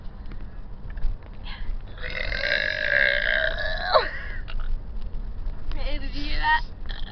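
Long, loud belches from two friends, one drawn out over several seconds and a shorter one following, close to the mic over a noisy background.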